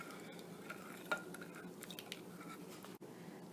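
Sambar being stirred in a microwave-safe dish after adding dal, vegetables, salt and tamarind paste, with soft scraping and light clinks of a spoon against the bowl, close and fairly quiet with no talking.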